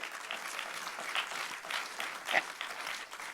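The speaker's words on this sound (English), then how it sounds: "Yeah, he's clapping." Applause at a Christian conference session, with steady, moderately distant clapping throughout and a brief louder swell midway.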